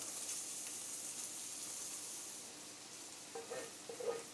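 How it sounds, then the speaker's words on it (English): Peppers and onions for a Philly cheesesteak bowl sizzle in a pan with a steady, faint hiss, joined near the end by a few soft stirring clicks and scrapes. "Now we're going to go ahead and throw your peppers and onions."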